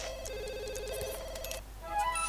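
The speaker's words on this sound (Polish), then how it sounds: "skocz to odebrać, gdzie jest telefon" Telephone ringing in The Sims 2 video game, an electronic warbling ring tone repeating steadily before cutting off, with faint game ambience continuing after.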